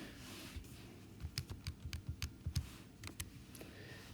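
Calculator keys pressed in a quick run of about a dozen light, evenly spaced clicks, close and fairly quiet over a steady hiss, with no talking.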